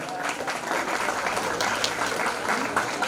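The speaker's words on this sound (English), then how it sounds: "Please guys, clap for him." An audience at a school pre-Christmas celebration claps steadily for a retiring cricket coach receiving his trophy, a continuous mid-level wash of hands with some crowd murmur mixed in.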